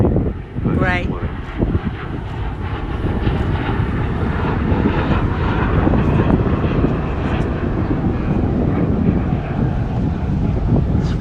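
Jet aircraft with an axial flow engine at the Newcastle air show, a loud sustained engine roar with a brief rising whine early on, heavy wind buffeting and a voice talking over it.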